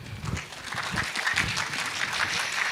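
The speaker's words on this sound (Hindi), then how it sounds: "तो हमारे महफिल में एक बार फिर से हो जाए जोरदार तालियां।" An audience applauding at a qawwali round of a televised singing contest, a dense continuous clatter of clapping heard from a moderate distance for a few seconds.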